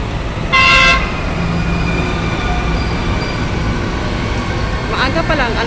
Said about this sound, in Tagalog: Ayan yung ating MRT.